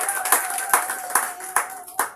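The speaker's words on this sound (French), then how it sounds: "Applaudissez encore pour nous." An audience claps at an awards event for holistic medicine, producing a short run of uneven, fairly close hand claps with a faint voice underneath.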